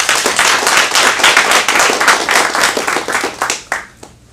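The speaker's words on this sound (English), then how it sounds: "Let's get a big round of applause." An audience at an adult acting class comedy showcase applauds, with dense, lively clapping that holds steady and then trails off into a few last claps.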